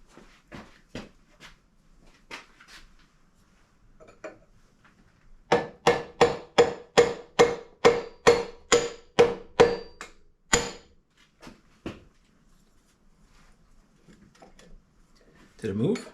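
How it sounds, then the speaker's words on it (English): A rapid series of about a dozen sharp taps from a plastic hammer on a Lewis metal shaper, evenly spaced and close, with a few scattered knocks before and after. "we're going to start with the plastic hammer"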